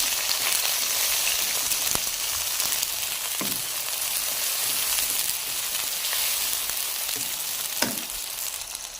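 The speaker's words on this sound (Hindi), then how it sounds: "टमाटर को भी हल्का सा फ्राई करेंगे हम।" Tomatoes frying in a pan for chicken karahi, a steady, close sizzle filling the whole span without pause, with a few faint clinks or stirs now and then.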